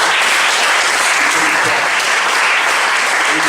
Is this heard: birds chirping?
no